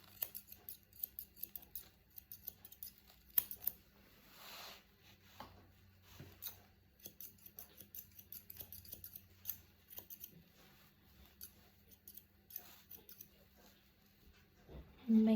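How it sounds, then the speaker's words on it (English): Small scissors trim a dog's fur lightly with quiet, close snipping in quick irregular bursts, soft and intermittent throughout. "trim it with scissors lightly."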